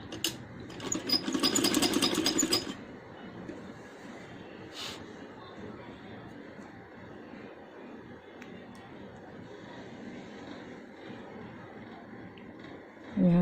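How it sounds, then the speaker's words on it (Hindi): A sewing machine runs briefly, stitching an inner seam on a handmade baby dress. There is one short, fast burst of mechanical whirring near the start, then quiet room noise and faint handling. "अब हम इसको अंदर की तरफ जो है वो सिलाई लगाएंगे।"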